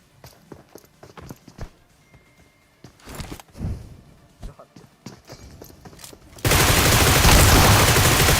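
Video game gunfire during a squad clutch fight, with sparse shots and footsteps followed by a sustained, loud burst of heavy firing near the end.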